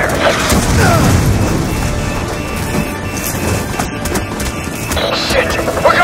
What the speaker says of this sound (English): Damn it, taking fire!